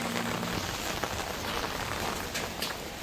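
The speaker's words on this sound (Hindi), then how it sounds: "बारिश में अच्छा लग रहा है मुझे घूम घूम के" Steady rain falls on a surface outdoors with no pause, a close and even wash of drops at moderate level.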